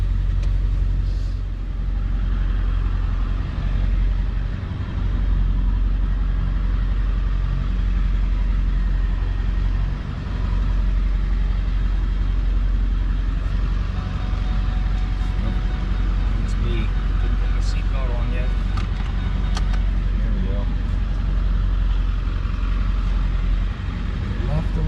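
A truck's engine rumbles low and steady while it hauls a trailer loaded with a big white oak log through trees, with people talking over the idling drone.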